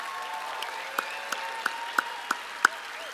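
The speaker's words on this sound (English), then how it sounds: "Another round of applause for all of our Michigan Celebrates awardees this evening." Scattered applause at an awards gala, with a few distinct claps rising over a soft hall murmur, fairly faint and brief.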